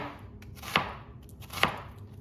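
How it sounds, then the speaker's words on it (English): Kitchen knife slicing through a red onion on a cutting board, two crisp separate chops about a second apart, close and clear with no talking. "we're gonna slice up a red onion here"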